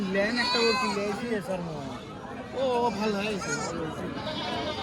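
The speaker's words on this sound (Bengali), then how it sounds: "এই যে দেখেন একটা ছাগল দেখছেন" Goats bleat repeatedly in wavering cries, close by at a goat market, mixed with people chattering in the background.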